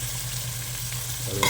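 Onions and dried chillies fry in hot oil with a steady, fairly soft hiss over a low hum, swelling into a brief louder crackle right at the end.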